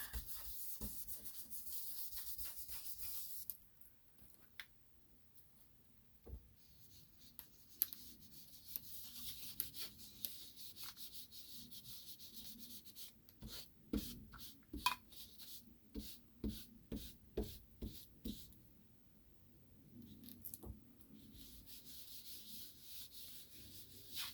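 Ink is rubbed across paper, a soft, close scratchy scrubbing in irregular strokes with short pauses, faint and with no talk.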